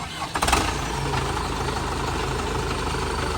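A truck loaded with a tractor starts its engine with a few sputtering bursts, then settles into a steady, close, low diesel rumble as it begins to move off.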